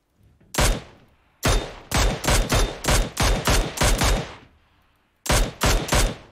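Mini 14 semi-automatic rifle shots in PUBG Mobile, loud sharp reports in quick clusters: a single shot, then a rapid string of about eight, a pause, and two more at the end.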